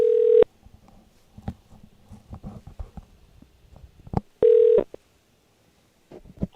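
A telephone line rings on a radio show call-in line: two bursts of a steady electronic ringback tone separated by a quiet pause with faint clicks and line noise, followed by silence.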